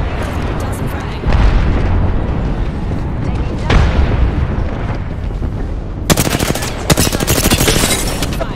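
Gunfire in Apex Legends during a ranked arena match: rapid automatic bursts and heavy booming shots, densest in loud clustered volleys near the end, with in-game character voices in between.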